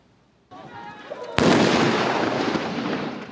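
An 8-inch howitzer fires during a Han Kuang military exercise on Kinmen, one sharp, loud blast whose rumbling echo rolls away over the next two seconds, with a brief voice just before it.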